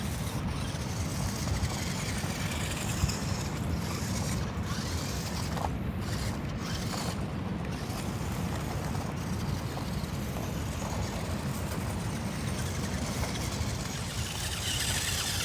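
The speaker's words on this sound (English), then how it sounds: "Now this is a rock crawler, so it doesn't have a lot of speed, but it does have a lot of torque." A Mean Machines Jackal RC rock crawler drives over loose dirt. Its small motor gives a steady low whir and grind, with gravel crunching and faint scraping throughout, and no one talks.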